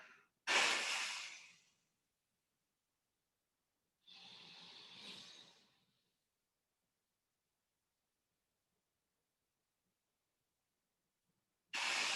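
A person exhales forcefully to push all the air out, heard as three breathy rushes: a strong first breath, a softer longer one a few seconds later, then another strong breath after a long silence.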